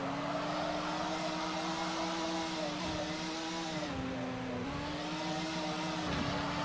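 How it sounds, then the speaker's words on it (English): A race car engine in the SEGA Touring Car video game drones at high revs, holding a steady buzzing pitch that dips briefly at gear changes, loud and continuous, with faint talk under it. "you're able to kind of keep those revs up by dropping it down into fifth gear"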